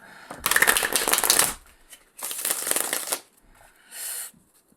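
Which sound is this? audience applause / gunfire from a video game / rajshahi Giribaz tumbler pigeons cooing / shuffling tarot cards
shuffling tarot cards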